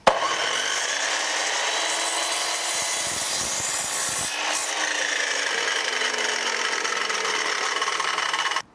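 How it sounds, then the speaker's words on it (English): A portable reciprocating saw grinds steadily through wood for several seconds, loud and close, with a brief change in pitch midway before the cut finishes. "You can't beat a bit of sawing action"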